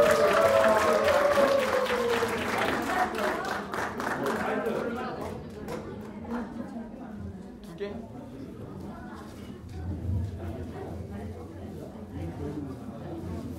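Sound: church retreat audience applauding group 4

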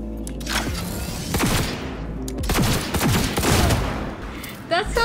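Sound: sci-fi gun firing in Cyberpunk 2077 video game

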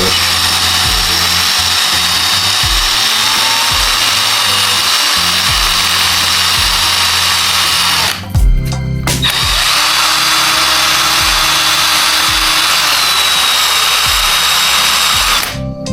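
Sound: power drill drilling lead sinker

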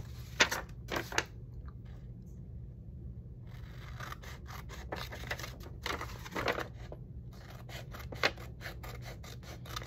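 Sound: cutting paper in half

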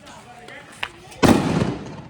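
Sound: Diwali firecrackers being set off

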